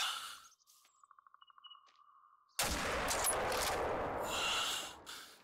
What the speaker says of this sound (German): Ich lasse es bei diesem einen Schuss.